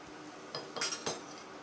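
A knife cuts bread into cubes on a board, giving a few quick, close taps and clinks spaced irregularly over a quiet kitchen background.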